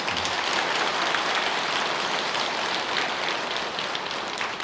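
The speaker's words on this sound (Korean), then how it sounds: "그분들께 박수 한번 보내주십시오" A crowd applauds steadily at a Buddhist dharma assembly at Tongdosa temple, dense clapping from many hands sustained at an even level throughout, with no voices above it.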